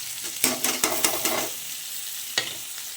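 Garlic, onion and ginger paste sautéed with a fish head in a pan, heard as a run of quick stirring scrapes and sizzle in the first second and a half, then a quieter fry with one more clatter near the end.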